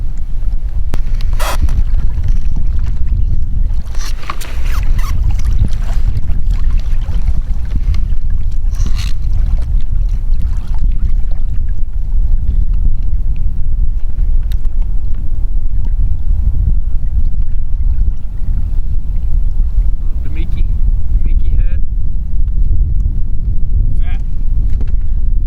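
Strong wind buffets a fishing boat on Lake Lanier, a steady loud low roar with gusty rumble throughout and occasional knocks and clatter from the boat.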